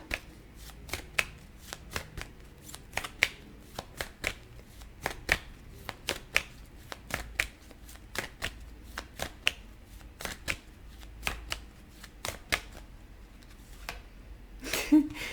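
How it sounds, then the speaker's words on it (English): A deck of tarot cards being shuffled close by, with repeated crisp riffles and slaps in irregular bursts, and a brief rustle at the end. "Let's get one more card from this deck, pile 2."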